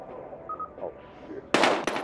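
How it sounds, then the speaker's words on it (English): Gunfire in the PS5 video game Battlefield Hardline: low murmuring game ambience and faint tones give way to a sudden loud burst of rapid shots, then another sharp volley at the end. "We've got gunshots. We're engaging."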